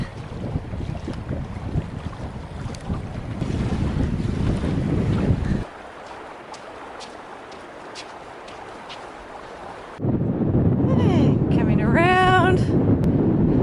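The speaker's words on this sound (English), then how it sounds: "Rough day today, really windy." Strong wind buffets the microphone in heavy gusts on the coast of The Catlins, New Zealand, dropping off briefly before roaring back, with a short high-pitched squeal near the end.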